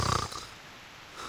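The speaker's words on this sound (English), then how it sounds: "아, 사과가 코골이 하고 있었어." An apple character in the video game Reverse: 1999 gives a short, close snoring snort, fading into quiet.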